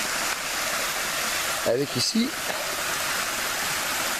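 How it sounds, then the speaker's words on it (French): A succession of small waterfalls along a river: a steady, loud wash of rushing water fills the whole stretch, with someone briefly speaking over it midway. "Une mini cascade. Alors en fait une succession de mini cascades"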